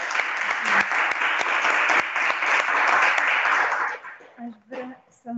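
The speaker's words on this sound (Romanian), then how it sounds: "cred că merită să mai aplaudăm." Conference audience at an international colloquium on mythology, memory and narration claps loudly and steadily for about four seconds, then the applause fades out as a voice begins speaking.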